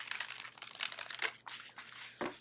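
A deck of tarot cards being shuffled by hand, quick papery riffles and crinkly card flicks in short bursts, quiet and close with soft pauses between.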